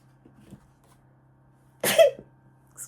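A single sudden sneeze bursts out close by after a quiet stretch, a sharp explosive burst with a short trailing breath and a low steady hum in the background.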